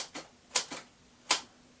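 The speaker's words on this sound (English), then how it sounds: "a few decades ago, many people used typewriters. These machines would often jam or break if you typed too fast." A mechanical typewriter clacks out four sharp, separate key strikes at an uneven pace, close and crisp against a quiet background.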